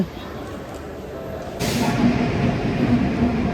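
Low rumble of a train at a station, growing louder partway through with a hissing rush and faint clanking.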